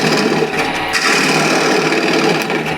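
A ball gouge cuts a wooden apple spinning on a lathe, making a steady, close, rough scraping hiss with slight wavering and no pauses.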